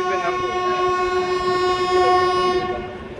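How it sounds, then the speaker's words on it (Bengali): Long, loud horn of a Kolkata-Radhikapur Express LHB train departing Ambika Kalna station, a steady multi-tone blast lasting about three seconds with faint rolling clatter beneath. "দেখা যাক অম্বিকা কালনা থেকে আমাদের ট্রেনের ডিপার্চার।"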